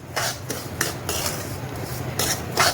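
A burfi mixture of sago, peanuts and makhana is roasted and stirred in a kadai over low gas, with rhythmic metallic scraping strokes of a spoon against the pan in quick repeated bursts, close and clear, with no talking.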